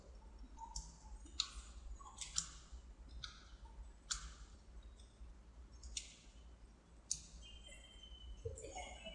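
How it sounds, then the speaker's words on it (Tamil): Keys on a computer keyboard are tapped one at a time in an irregular sequence of soft, sharp clicks over a quiet background, entering a server password with no speech. "இதோட பாஸ்வேர்டு டைப் பண்ணுறேன்,"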